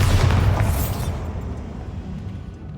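A Bombarda blasting spell from Hogwarts Legacy bursts once, loud and close, with a heavy boom that rumbles and fades over a couple of seconds.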